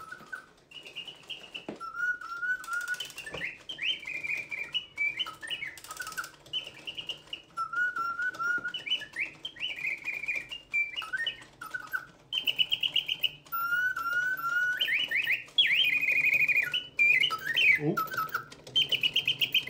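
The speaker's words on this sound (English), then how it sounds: "here we go with the Sèvres panel singing bird" A mechanical singing bird automaton set in a Sèvres porcelain panel sings a long, looping sequence of bright whistled trills and warbles, close and clear, with faint mechanical whirring underneath.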